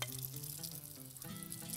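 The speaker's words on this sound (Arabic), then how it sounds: "هعملها تحت الحوض على طول" Water runs from a kitchen sink tap in a steady, faint stream with soft splashing and a low hum underneath, continuous and close, with no speech.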